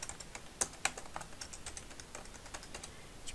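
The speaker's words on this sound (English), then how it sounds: "You can hear me clicking away here." Fast computer keyboard typing and mouse clicks while working in ArcGIS Pro mapping software, a steady patter of light close taps with two sharper clicks near the start, no voices.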